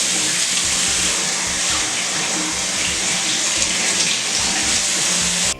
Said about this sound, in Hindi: मैं जल्दी से अपना फेस वॉश कर लेती हूँ।